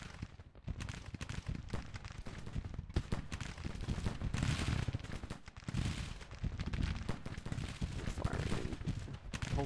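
Rapid rifle fire from Confederate infantry with Springfield rifles crackles without letup in a Civil War battle game, shots overlapping in dense volleys while voices talk over the din.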